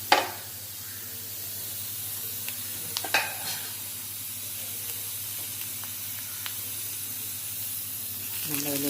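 Mushroom thoran frying in a hot pan gives a steady, moderate sizzle with occasional stirring scrapes and small spatters, with no talking over it.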